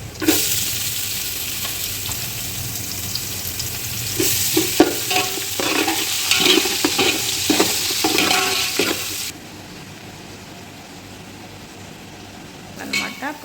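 Chopped onions sizzle and fry in a home-kitchen pan while a utensil stirs and scrapes through them in repeated strokes, loudest in the middle and easing to a softer hiss near the end.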